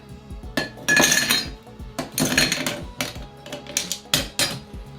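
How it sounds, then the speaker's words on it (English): Ice cubes tumbling into a tall highball glass for a Dirty Shirley cocktail, in several loud, close bursts of clinking and rattling separated by brief pauses, with a few lighter clinks as the cubes settle. "I'm using a highball and fill it with ice."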